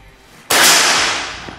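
A PCP air rifle fires a single sharp, loud shot up close on a 25-meter shooting range. The crack is followed by a brief airy hiss that fades.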